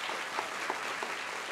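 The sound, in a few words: audience applause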